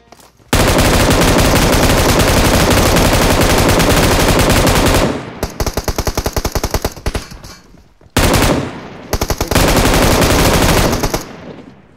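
M249 machine gun fire in PUBG Mobile: loud, sustained automatic bursts, one long stream then choppier rapid shots, a short gap, and another heavy burst before tailing off.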